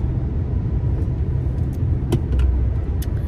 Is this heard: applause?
no